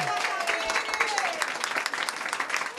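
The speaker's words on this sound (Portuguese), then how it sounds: "Vamos bater uma, uma salva de palmas para Tamires" An audience gives a round of applause for an artist at the opening of an exhibition space for artists with disabilities, dense steady clapping filling the whole stretch, fairly close, with a voice briefly audible.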